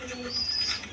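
Soft pigeon cooing, a single low throaty call held for about a second, fairly close and quiet, with faint background noise and no talking.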